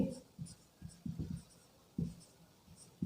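Chalk or marker scratches across a classroom board in short, uneven strokes, faint and close, with a few brief pauses between them.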